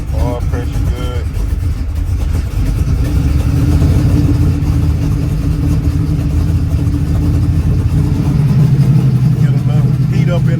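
A 1979 Chevrolet Malibu with an LS engine swap runs close by, with a low, throbbing idle and periodic revs that rise and settle. Someone talks over the engine noise.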